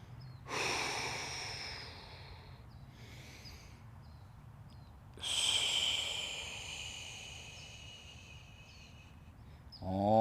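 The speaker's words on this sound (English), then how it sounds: "Breathing deeply in through the nose and out through the mouth." Deep, slow breaths during a full-body stretching routine, drawn in through the nose and let out through the mouth, with two long airy exhalations a few seconds apart and a sharper intake at the end, close and fairly quiet.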